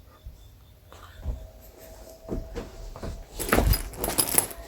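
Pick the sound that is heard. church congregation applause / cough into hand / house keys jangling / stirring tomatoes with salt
house keys jangling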